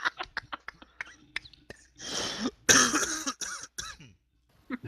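Someone coughs from laughing during a Star Wars Edge of the Empire tabletop role-playing session: a run of short, sharp coughs, then breathy laughter-like bursts and more coughing, close and loud.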